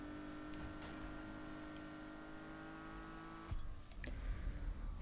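A 1970 Porsche RSR races in Need for Speed 2015, its engine droning steadily at high revs with a sudden louder surge near the end, heard alone without talk.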